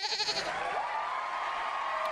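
Goats bleat in a short, wavering burst of several loud, close cries that merge into one drawn-out call, heard alone without talk.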